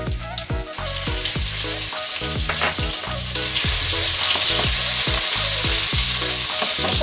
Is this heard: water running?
no